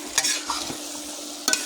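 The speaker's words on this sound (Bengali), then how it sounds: "ঘন্টটি আমি আবারও নেড়ে দেবো ভালো করে।" Cabbage ghonto being stirred in a pan, a soft sizzle with a few brief scraping clinks of a spoon at the start and end.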